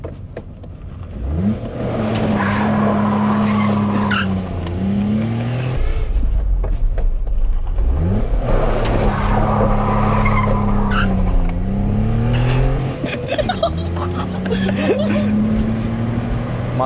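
A 1.2-litre VW Polo is driven hard down back roads. The engine repeatedly revs and drops through gear changes while the tyres squeal through corners, loud and close from inside the car.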